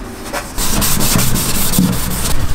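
Steady abrasive rubbing of sanding on the surface of a Volkswagen Amarok pickup truck bed, loud and close, with a continuous rasping texture and slight rhythmic strokes.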